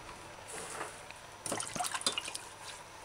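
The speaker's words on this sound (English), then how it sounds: "Wash your carrot as well." A carrot is rinsed under running water while vegetables are prepared for an oyster sauce stir-fry, giving soft splashing and trickling that grows busier and louder in the second half, with no talking.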